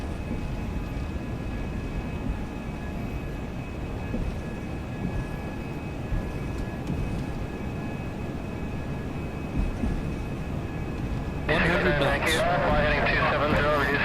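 Airliner engines held at takeoff thrust in a flight simulator game give a steady, dense roar throughout, and a voice cuts in over the noise near the end.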